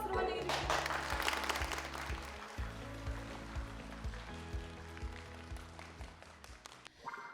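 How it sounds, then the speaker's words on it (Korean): A lecture audience claps in welcome for a guest professor, a loud burst of applause that continues steadily under background music and then tapers off. "여러분 큰 박수로 환영해 주십시오."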